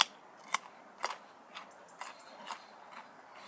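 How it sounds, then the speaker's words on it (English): Sharp crunching bites into a raw carrot, a series of crisp snaps spaced about half a second apart, close and fairly quiet against a faint hush. "The sound you hear is me eating a carrot."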